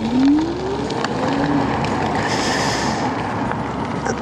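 A Duotts D99 60V electric scooter rides along with a rising motor whine over steady rushing wind and road noise, recorded close and fairly loud.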